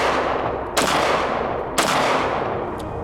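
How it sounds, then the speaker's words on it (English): Two loud, close gunshots from an IWI Masada 9mm pistol, about a second apart, each a sharp crack over steady outdoor background noise. "this is the first couple shots through the Masada"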